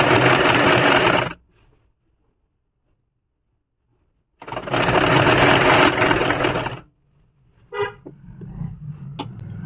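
A sewing machine stitches piping onto a kurti side slit in two loud close bursts of rapid whirring, separated by silence, followed by quieter clicks and handling noises.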